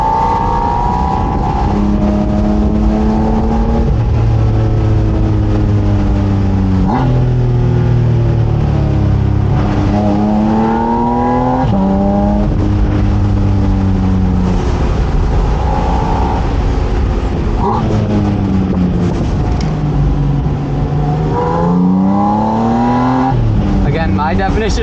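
A Porsche Spyder RS sports car accelerates hard on a back road, its engine climbing through repeated rising revs with sharp drops at gear changes, loud and close throughout.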